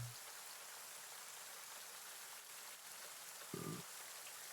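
Steady rain sound effect played as ambience during a Dungeons and Dragons tabletop role-playing session, a continuous even hiss of drops on a surface with a brief low thump near the end.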